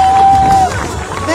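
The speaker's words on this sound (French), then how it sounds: "Donc on applaudit très fort Uranus, notre chasseur de furie." Festival crowd at a fantasy cosplay event cheering and applauding, a loud dense roar of claps and voices with a whistle cutting through briefly.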